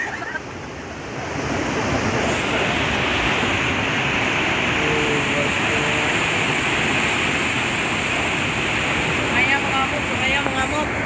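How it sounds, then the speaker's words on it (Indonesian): A river swollen and raging after heavy rain roars as a constant broad rush of churning water, rising in the first second and then holding loud and steady, close by, with no clear talk over it. "Sungainya mengamuk."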